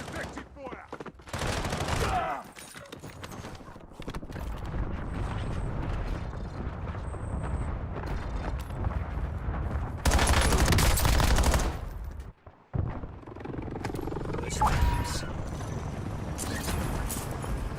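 Heavy gunfire and blasts in a military video game, a loud, steady barrage with a stronger surge of explosive fire around the middle and a brief lull before it resumes; voices come through faintly beneath the combat noise.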